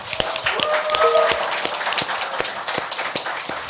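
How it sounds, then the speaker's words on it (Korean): Steady applause from a talk show studio audience with scattered sharper claps, a brief whistle-like tone rising above it, continuing evenly for a few seconds. "여러분의 힘찬 박수와 함께 시작하겠습니다"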